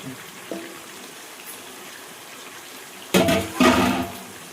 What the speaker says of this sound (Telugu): ఇప్పుడు మనము మిక్సీలో నీళ్ళు ఉన్నాయి కదా,